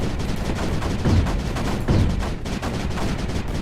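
Turret guns firing steadily in the space strategy game Space Crew, a dense continuous barrage of shots with two heavier bursts standing out, loud and close, no voices.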